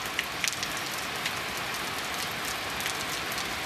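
Steady rain pours in a continuous, even hiss during a warm, humid thunderstorm, with a few brighter drip ticks near the start and no voices.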